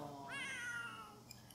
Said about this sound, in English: Where's this cat at?